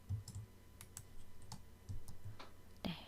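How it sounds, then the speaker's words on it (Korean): Quiet mouse clicks and keyboard key presses for a Ctrl+C copy in Adobe After Effects software, a handful of light, sharp taps spaced irregularly over a faint background hiss, with no talking. "레이어를 클릭하고 컨트롤 C를 눌러서 복사하도록 하겠습니다"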